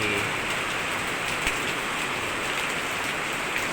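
Steady heavy rain falls in a constant dense hiss with occasional louder drops, close and unbroken throughout.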